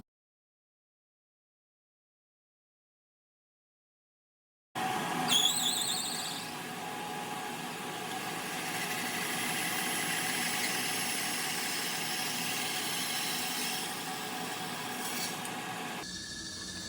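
A hand saw cuts into wood while a rotted wood post is repaired, giving a continuous rasping scrape that starts abruptly after a silent stretch, holds a steady level for about ten seconds and then stops.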